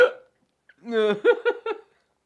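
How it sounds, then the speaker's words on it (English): A person hiccups in a close, abrupt burst, followed by a few short, voiced catches in quick succession that resemble a chuckle, with silence between. "I'll probably have a few hiccups from this"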